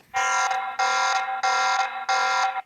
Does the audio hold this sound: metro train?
no